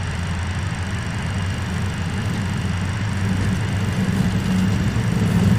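An MD-82 airliner's engines hold takeoff thrust with a loud, steady broadband roar and low rumble, heard from inside the aircraft and slowly swelling, with no voices.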